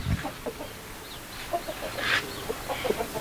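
Lakha breed rooster clucking at a Saddar Sunday animal market, soft scattered clucks and short calls at a distance amid faint crowd bustle.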